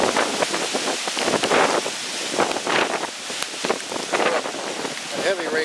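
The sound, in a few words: rain starting during early Hurricane Matthew, Palm Beach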